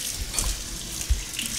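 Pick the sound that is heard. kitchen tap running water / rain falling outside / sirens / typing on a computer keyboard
kitchen tap running water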